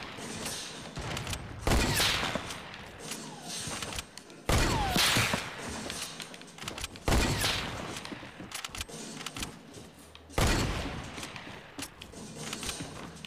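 A heavy sniper rifle in Fortnite Battle Royale fires four loud, booming shots spaced a few seconds apart, over a busy game soundscape.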